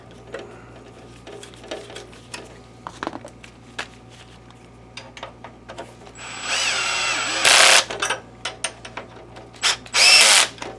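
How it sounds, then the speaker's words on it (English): After a stretch of quiet clicks and handling noises, a power drill driving screws into a projector whirs in two loud short bursts, pausing briefly between them. "then I'll finish them with the drill"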